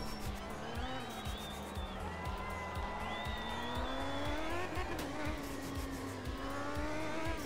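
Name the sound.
Soviet rally car engine in video game Art of Rally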